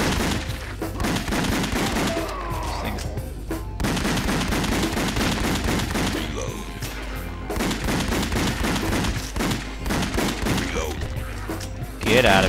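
Rapid gunfire in the zombie shooter House of the Dead Overkill, dense bursts of loud automatic shots firing almost continuously with brief pauses, game music and effects layered underneath.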